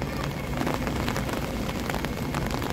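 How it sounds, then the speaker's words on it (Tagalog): Dense, steady hiss of heavy rain during a storm, a broad close wash of drops pouring down without letup. "Ayan, lumakas na yung ulan, guys"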